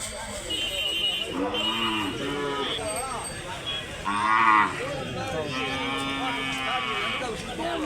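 Cattle moo repeatedly at a weekly Sunday cow market in Santhipuram, Andhra Pradesh, with several long, overlapping calls near and far over steady crowd murmur and voices.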